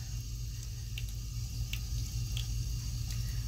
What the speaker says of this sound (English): work the soap through the bristles